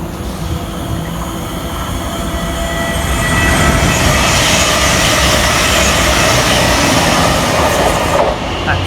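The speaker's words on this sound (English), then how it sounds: "That's 72512, speeding into London Liverpool Street" Unit 720 no. 72512 speeds toward London Liverpool Street on the Great Eastern Main Line, a loud, close roar of wheels and rail rumble building and holding steady, with a faint squeal near the end.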